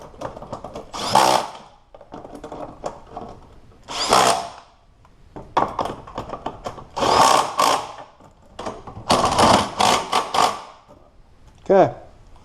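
Electric impact wrench tightening engine mount bolts on a Ford Focus: several short, loud buzzing bursts with rattling hammering, separated by brief pauses, close by, ending with a quick whirring spin-down.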